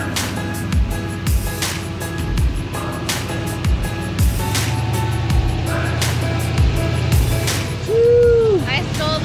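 Rock crawling buggy on the Back Door and Turkey Claw trails at King of the Hammers 2023, its engine revving in bursts with knocks and thumps over rough ground, close up while people talk over it.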